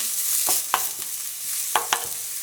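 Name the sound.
garlic sautéing in pan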